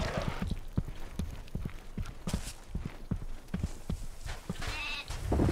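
Sheep bleats in the Overlord video game mix with quick, rhythmic hoof-like clip-clop steps, a short busy stretch of animal sounds at moderate loudness with no talking.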